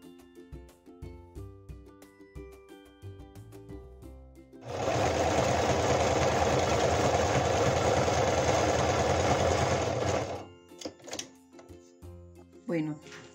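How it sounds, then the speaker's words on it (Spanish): A sewing machine runs steadily for about six seconds, stitching the fabric lining of a handbag right side to right side, loud and close, with a person speaking before and after the stitching. "Bueno, ya yo cosí el bolso a máquina"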